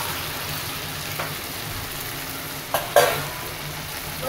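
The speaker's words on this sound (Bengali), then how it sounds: "এবার এর মধ্যে চিংড়ি মাছগুলো দিয়ে দেবো।" Taro stolons frying in a pan give a constant hiss, then a brief louder burst of sizzling and clatter as shrimp drop in, with the frying carrying on steadily afterward.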